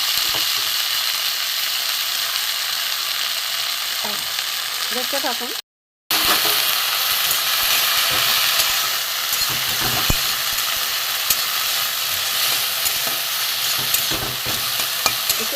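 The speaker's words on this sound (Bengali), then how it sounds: "এবার আমি এই যুক্ত ফুলগুলোকে ভেজে নেব।" Flowers fry in mustard oil in a wok, a continuous loud sizzle close by, broken by scraping stirs and occasional clicks from the spatula; a person speaks briefly near the start before a short gap.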